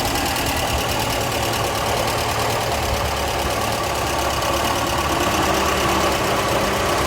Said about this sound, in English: Electric fans just kicked in